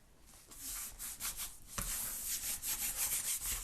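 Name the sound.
rubbing glued cover of a handmade squash book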